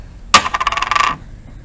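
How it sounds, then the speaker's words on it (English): Dice rolled during a math fact board game, a sharp clatter followed by a quick run of rattling bounces lasting under a second, alone with no talk. "Roll the dice."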